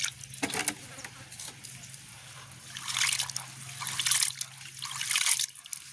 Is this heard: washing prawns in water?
yes